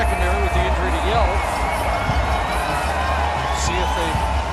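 Crowd noise swells throughout a CFL football stadium during a Toronto Argonauts at BC Lions game, a steady roar with whoops and cheers rising under continuous play-by-play commentary.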